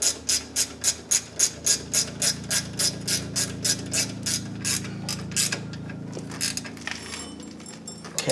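A hand ratchet clicks in rapid, even strokes, close and loud, tightening brake caliper slide pin bolts on the rear brakes of a 2005 Chevrolet Suburban 1500 4x4, then slows and falls quiet.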